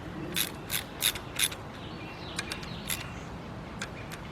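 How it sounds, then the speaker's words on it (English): A ratchet runs bolts into the engine of a 2003 Nissan Maxima GLE 3.5 during a partial rebuild, giving crisp, close clicking bursts, four spaced strokes and then quicker, lighter clicks. "I'm just bringing them in, just using the ratchet just to bring them in"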